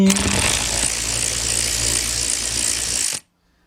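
Screws are backed out of a fog light on a 2010 BMW 528i's right side, a continuous close whirring power-tool drone with a ratcheting buzz that runs steadily for about three seconds, then cuts off abruptly to silence.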